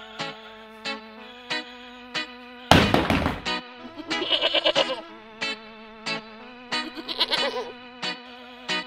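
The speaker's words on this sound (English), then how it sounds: "Goat." A toy-style goat bleats loudly in a short bursting call, set among repeated cartoonish musical tones and a brief noisy thump, close and clear with no talk.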